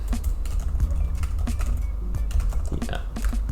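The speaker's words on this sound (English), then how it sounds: "typing quickly, make some mistakes" Quick, uneven typing on a computer keyboard, with a dense run of close clicks and key taps continuing throughout.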